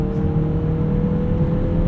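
A 2018 Mazda CX-9 Signature's 2.5 liter turbocharged engine accelerating on a highway in sport mode, heard from inside the cabin as a loud, steady drone with a whirring tone.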